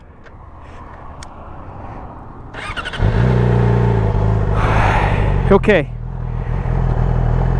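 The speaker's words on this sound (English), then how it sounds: "We got a powered 4-cylinder engine here. I believe it's an inline 4." Inline-four engine of a 2016 Yamaha R6 motorcycle idling, then revving up sharply into a loud, close, sustained whine with a couple of quick throttle blips, and a brief spoken word early on.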